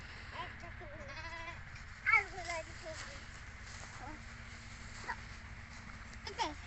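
A goat in a village yard lets out several short wavering bleats, with a louder cry near the middle. Soft rural background noise runs underneath, and faint voices come in now and then.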